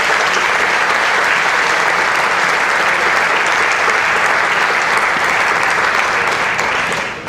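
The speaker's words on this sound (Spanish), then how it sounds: "Denle un aplauso al Señor." Loud, sustained applause from a church congregation clapping for the Lord during a pastor's testimony, a dense, even wash of hands that fades slightly at the very end, with no voices.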